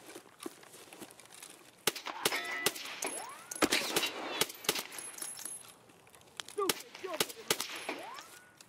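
Gunfire in Escape from Tarkov during a Halloween event: scattered sharp shots and metallic clangs, some in quick pairs, fairly faint and spread over several seconds, with voices talking at times.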